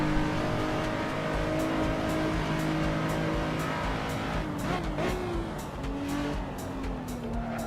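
Racing car in the Assetto Corsa sim, engine droning steadily at high revs with tyres squealing and sliding through a drift, then pitch shifts as it shifts gear, loud and alone.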